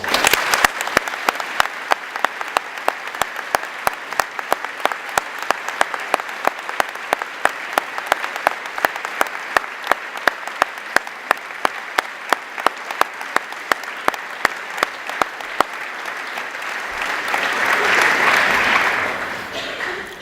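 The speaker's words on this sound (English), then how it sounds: "a very big round of applause to all of our leaving teachers" An audience at a school speech day gives long, loud, sustained applause for departing teachers, dense clapping that swells slightly near the end before fading.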